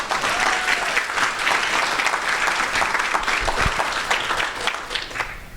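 An audience applauds steadily to welcome the speakers at a talk on preserving histories through a story museum and digital archives, a loud, dense round of clapping with no voices over it.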